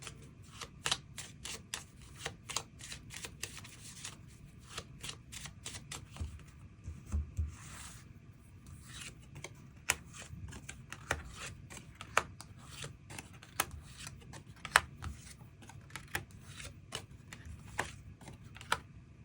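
Tarot cards being shuffled by hand in a quiet room, a steady run of soft rasping riffles and light slaps that repeat across the whole stretch at low volume, with no voices.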